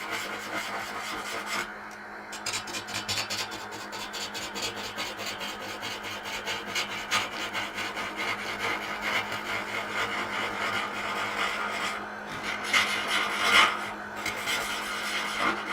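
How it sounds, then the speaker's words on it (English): A parting tool cuts into wood spinning on a lathe, giving a steady, close rasping scrape that runs the whole time with slight swells in intensity. "then lifting into the cut. I keep the side walls on my parting tools sharp enough to act as a scraper."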